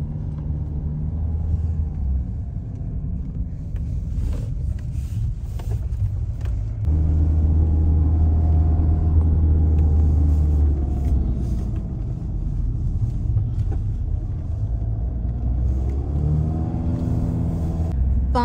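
A car climbs a rough mountain track in Ladakh, its engine rumbling steadily from inside the cabin. The engine note rises and holds as it pulls harder partway through, and the low drone carries on with no voices.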